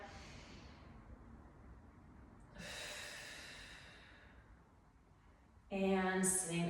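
Audible breathing during a postpartum mat workout: a faint exhale, then a longer airy breath, and finally a sharper, louder breath with a slightly voiced edge near the end, close and quiet overall.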